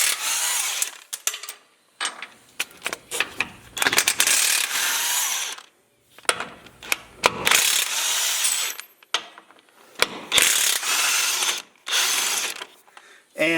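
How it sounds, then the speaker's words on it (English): An 18mm socket on a ratchet removing bolts from a Jeep Gladiator, rapid clicking pawl bursts in repeated spells with short pauses between, close and clear. "So I'm going to take these 18mm bolts, I'm going to take them out and then put the bracket on. Alright, so I'm going to come in here with an 18mm socket."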